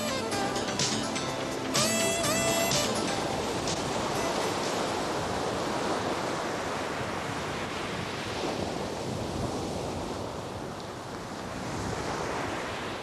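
High surf pounds the shore at Sotavento, Fuerteventura, amid strong winds during a speedsurfing event, a loud continuous wash of breaking waves with wind buffeting the microphone and a brief burst of tonal noise near the start.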